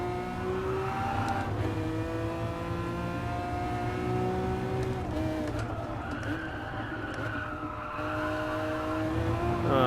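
A race car in Gran Turismo Sport, played in VR, drones its engine steadily while the tires scrub and squeal under trail braking, with the engine pitch shifting as the car slows and picks up speed again.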